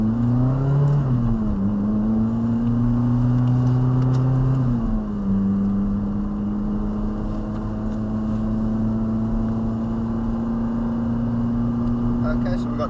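Ferrari F430 driving in first gear around a tight section of the Top Gear test track, its engine a steady, loud drone heard from inside, with pitch dipping and settling as it holds revs.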